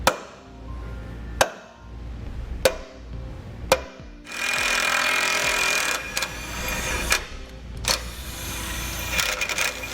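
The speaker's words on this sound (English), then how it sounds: "we can use a center punch to mark" A center punch struck with a hammer to mark hole locations on the frame rail of a 2015 Chevrolet truck, four sharp metallic taps spaced about a second apart, followed by rougher rattling workshop noise.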